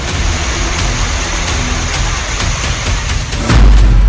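Heavy monsoon rain in the mountains of India hisses steadily with a few sharp pops, then a deep booming rumble swells loudly near the end.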